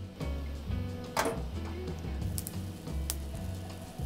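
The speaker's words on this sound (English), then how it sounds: "we're gonna sear our steak" Wagyu steak searing in a hot pan gives a steady low sizzle under faint kitchen clatter, with a few brief sharp metallic ticks and scrapes along the way.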